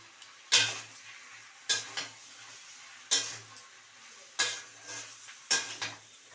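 Salt and sugar are stirred into a shrimp and spring onion curry in a pan: five or six evenly spaced scraping strokes of a spoon, each a short gritty burst over a low background sizzle, with no voices.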